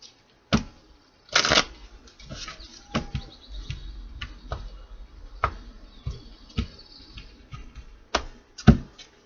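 Tarot cards shuffled by hand for a reading, heard up close as a series of crisp riffling snaps and soft slides in an irregular rhythm, with no talking.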